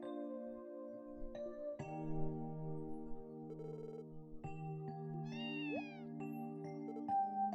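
A cat meows once in the video game Zero no Kiseki, a short rising cry that sits over steady, sustained game music with no talking.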